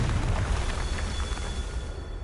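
A Confringo blasting spell goes off in Hogwarts Legacy, a loud, dense fiery whoosh with a heavy low rumble that holds for about two seconds before easing slightly.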